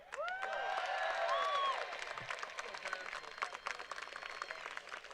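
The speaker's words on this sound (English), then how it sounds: "Clap it up, everybody, if you're a peacemaker out here" A crowd at an outdoor gun-reform rally claps, scattered and steady, after a loud voice leads a call-and-response chant; the applause continues on its own, moderately distant, for several seconds.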